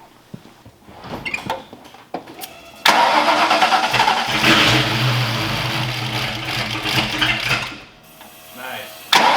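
A Ford Mustang Foxbody engine cranks after a few clicks and quiet voices, catches and roars to life, then holds a loud rough rev before dropping back, with another blip at the end.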